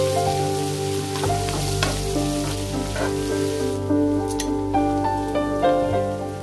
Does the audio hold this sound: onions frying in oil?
yes